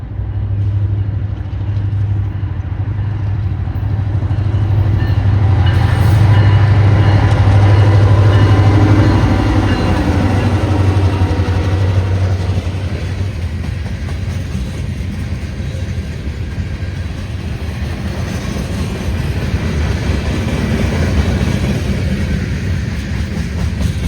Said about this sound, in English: got a 52 axle train here, Tropicana orange juice train, going up to Crescentville